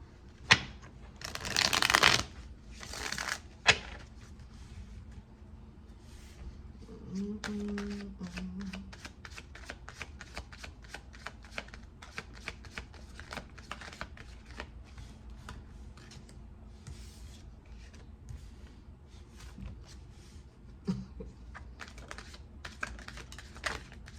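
Rapid riffling of playing cards being shuffled close by, in repeated bursts with a steady patter of card snaps and taps, no talking.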